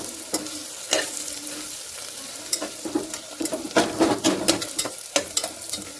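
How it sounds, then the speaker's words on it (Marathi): Mutton curry ingredients fry with salt in a pan, a steady soft sizzle under intermittent spoon stirs and scrapes, close and moderately loud. "थोडं टाकायचं, लवकर फ्राय होईल. फ्राय व्हायला सुरुवात झाली."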